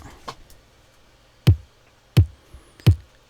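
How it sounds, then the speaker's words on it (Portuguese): Three deep, punchy kick drum hits ring out alone at a steady interval, each a short low thump with a quick decay, near and clean. "Esse é o som do primeiro kick isolado."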